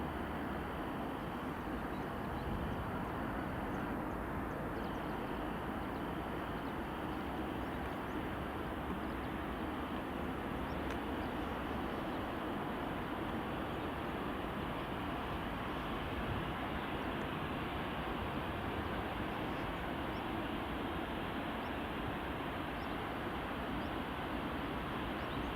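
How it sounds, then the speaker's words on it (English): EasyJet airliner landing at Edinburgh Airport, a continuous broad jet roar heard from a distance, steady and unbroken with no voices over it. "There's EasyJet just landing."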